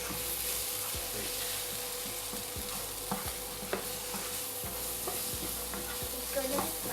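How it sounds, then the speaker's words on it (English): Spicy chicken sausage masala curry, Indian style, being stirred in a pan, with soft scraping strokes and a few sharp spoon knocks over a steady low sizzle, close and fairly quiet. "Now we're going to mix this."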